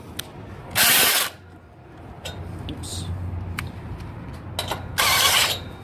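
Two loud bursts of a power drill with a cone bit grinding into material, enlarging a hole during a door replacement, separated by quieter mechanical clicks and handling noise, with a brief ratcheting sound in between.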